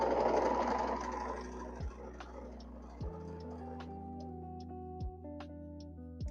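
A domestic sewing machine stitching fabric for a quilt, starting with a quick run of stitching and then slowing into spaced mechanical clunks and ticks, fairly quiet and close.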